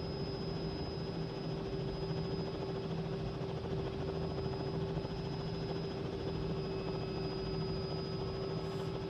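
A steady helicopter engine drone with constant rotor hum and a high whine, unbroken throughout, from a Robinson R66 in the Microsoft Flight Simulator 2020 video game.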